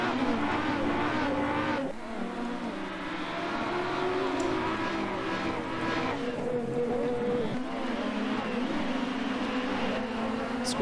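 A race car accelerates hard around the Mount Panorama circuit in a racing video game, its engine note rising through the gears with brief shifts, loud and continuous with no talk over it.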